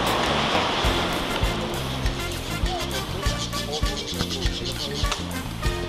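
Surf washes steadily onto a Costa Rica beach, a broad constant roar with repeated thumps and clatter nearby, while people talk and birds or animals call faintly in the background.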